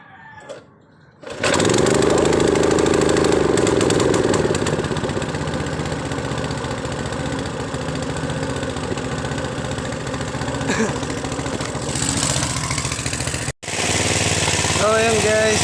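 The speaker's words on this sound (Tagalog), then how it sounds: "gumagana na ating water pump" A gasoline water pump engine starts up after a quiet moment and runs at a loud, steady, rough drone close by. A voice talks over it.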